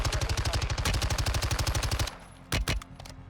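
Automatic weapon fire in Call of Duty Warzone 2 rattles off in a rapid, even burst of loud close shots for about two seconds, then falls quiet apart from two short follow-up bursts.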